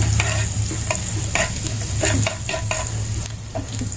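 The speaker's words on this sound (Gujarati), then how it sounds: "અને થોડું જ ફ્રાય થવા દેવાનું છે." Hot oil sizzles loudly and close up with chopped ginger and garlic frying, while a spoon scrapes and stirs through the pan in short bursts.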